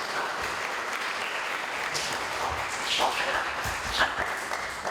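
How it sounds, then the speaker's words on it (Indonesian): Audience applause at a broadcasting event in Jember, moderate steady clapping from a smallish crowd, fairly even with a few louder individual claps near the end. "Tepuk tangan untuk mereka berdua."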